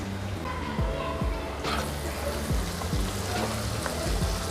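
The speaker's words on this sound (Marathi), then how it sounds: "आलं लसूण पेस्ट एक चम घेतलेली एक चमचा आहे ती पूर्ण टाकते आणि आपण जो खडा मसाला घेतलेला आहे तो पूर्ण टाकूया" Ginger garlic paste and whole spices fry in hot oil, a steady close sizzle broken by scattered pops and stirring clinks, while someone talks over it.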